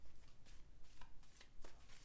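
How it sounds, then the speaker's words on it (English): Tarot cards being shuffled by hand in repeated soft riffling bursts, quiet and close, with no talking. "I'm just going to shuffle until it feels right."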